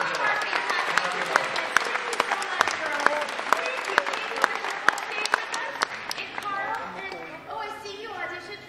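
An audience at a Star Wars Weekend stage show at Disney's Hollywood Studios applauds its contestants, sustained clapping with sharp claps standing out, fading toward the end as a voice speaks.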